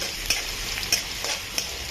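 Garlic and a finely chopped chilli sauté in a pan for lasooni palak, a soft continuous sizzle broken by a few light taps of a spatula, close and quiet with no talk.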